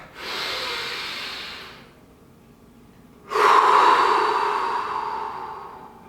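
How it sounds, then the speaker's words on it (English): A deep breath drawn in through the nose, then a pause and a long, loud exhale, close and unhurried with no talking. "everybody take a deep breath through your nose"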